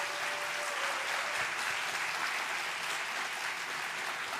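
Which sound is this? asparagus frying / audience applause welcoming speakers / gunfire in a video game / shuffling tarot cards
audience applause welcoming speakers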